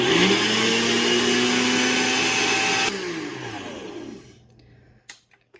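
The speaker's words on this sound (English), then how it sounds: "And what you can do is just grind it up. This is going to be loud." A countertop blender grinds a measured 120 grams of ingredients for a fall recipe, running loud and steady for about three seconds before the motor spins down, followed by a few faint knocks.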